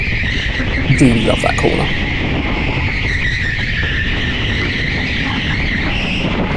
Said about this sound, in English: I reacted to them going into the slide, which is what put me into a bigger slide.